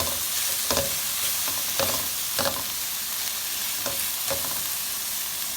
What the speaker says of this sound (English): you just cook these until they turn pink